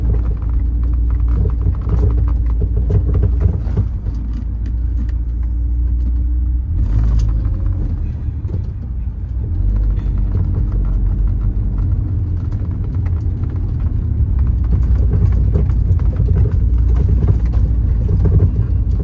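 Perodua Myvi fitted with adjustable HLSF Pro Expert absorbers driving over an uneven road, a steady low road rumble with irregular knocks and thumps from the suspension throughout, heard from inside the car with no talking.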